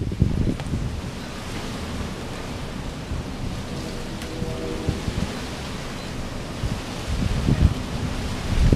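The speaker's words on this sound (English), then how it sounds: "there is a whole bunch of wind in the background" Wind blowing outdoors buffets the microphone with a steady, loud broadband roar and low rumbling gusts that swell and ease throughout, with no clear speech over it.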